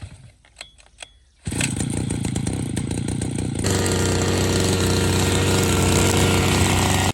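A petrol grass cutting machine on a farm field roars to life after a few quiet clicks, running loud and steady with a buzzing two-stroke drone that climbs to a higher, sustained pitch.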